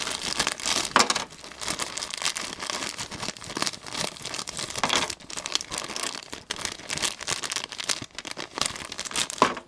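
Plastic bag crinkles and rustles as model kit parts are pulled out, a continuous run of close, uneven crackling bursts lasting several seconds.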